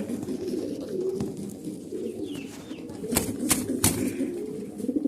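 A pair of black Lahore pigeons sitting on eggs coo softly and repeatedly at close range, low rolling calls punctuated by a few brief sharper sounds.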